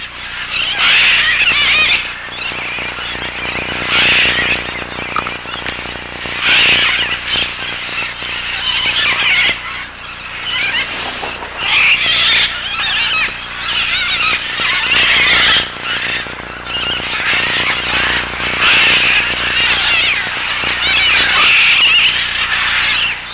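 A dense flock of macaws and parrots squawks and screeches continuously at a clay lick in the Peruvian rainforest of Manu, loud overlapping harsh calls with no pauses.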